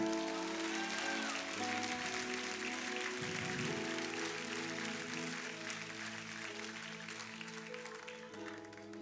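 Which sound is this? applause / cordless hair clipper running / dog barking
applause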